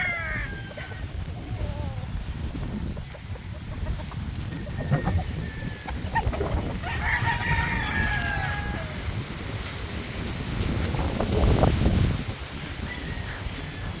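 Chicks peep and chickens cluck inside a coop, with scattered high chirps and low clucking over a steady rustling background, while people talk nearby.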